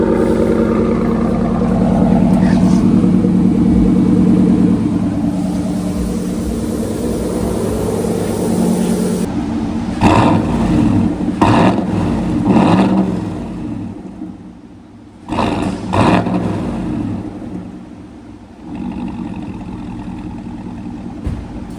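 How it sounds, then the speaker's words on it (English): A car fitted with a new Corsa cat-back exhaust idles with a deep, loud drone, then is revved in several sharp bursts that rise and drop back, heard close and without talk. "Second, I'll give her some revs."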